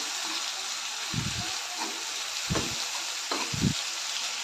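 Onion and tomato sauté in a pan under a constant hiss of frying, broken by three or four dull scraping knocks of a spoon stirring at intervals.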